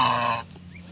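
On a white goose farm, one goose gives a single short, loud, nasal honk close by before it drops away to quiet farm background.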